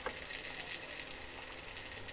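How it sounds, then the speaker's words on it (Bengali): Cubed onion frying in a pan for cheese pasta, a steady bright sizzle that holds evenly throughout, close and moderately loud, with no talk. "তো আমার এখানে পেঁয়াজটা ভেজে নিলাম।"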